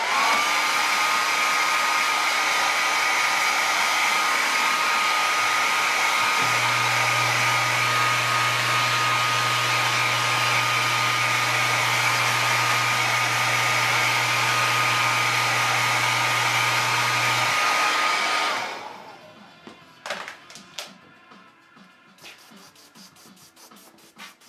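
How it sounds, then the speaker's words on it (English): A blow dryer runs steadily and loud to dry paint on a custom figure, a constant whooshing roar with a low hum joining partway, then cutting off to a few faint taps and clicks. "Let's see with the blow dryer real quick"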